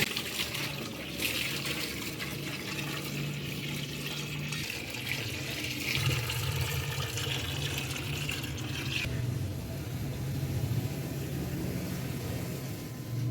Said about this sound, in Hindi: फिर इसके अंदर पानी डालूंगी।